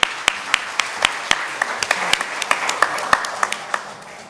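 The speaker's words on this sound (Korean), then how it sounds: "감사의 박수 부탁드립니다" A room of guests at a book launch breaks into applause, sharp individual claps popping irregularly over a steady wash of clapping that holds for several seconds, close and lively.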